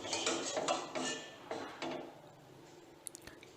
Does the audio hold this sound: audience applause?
no